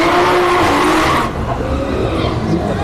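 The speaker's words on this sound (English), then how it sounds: "Supra going up against the wagon, the Pontiac wagon." Drag race between a Toyota Supra and a Pontiac Le Mans G-body station wagon at a no-prep event at Orlando Speed World: loud engine roar and tire squeal fill the first second or so, then the cars fade to a steadier rumble.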